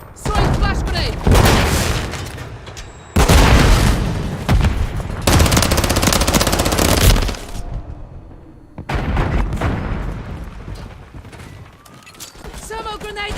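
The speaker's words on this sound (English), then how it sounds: "Thermal grenade out! Loading fresh mag! Throwing flash grenade!" Loud bursts of video game combat, with rapid machine-gun fire and heavy booming grenade explosions in dense, overlapping blasts separated by short lulls, with shouted voices mixed in.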